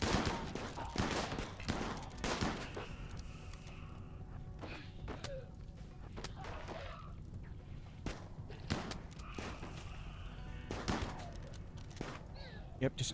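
Gunfire from a RimWorld colony battle: a dozen or so sharp, crisp shots crack out at irregular intervals, some in quick pairs, over a steady low background hum, fairly loud and close throughout.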